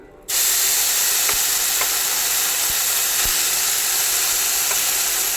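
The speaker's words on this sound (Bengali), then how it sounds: "মশলাটাকে আমি একটুখানি ভাজা ভাজা করবো" A ground paste of ginger, green chilli, onion and tomato drops into hot oil with black cumin for tel koi fish curry, bursting into a loud, even hiss and sizzle that carries on unbroken, with no talking.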